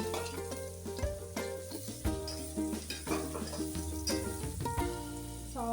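Onions fry in oil with cumin seeds for cashew curry, sizzling steadily while a spoon scrapes and clinks against the pan at an uneven pace, close and fairly clear.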